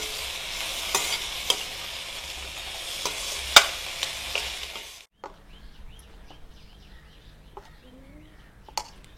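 Ingredients for a spicy chutney sautéing in a pan: a steady close sizzle with occasional stirring clicks and scrapes for about five seconds, then a sudden cut to quiet background with faint bird calls.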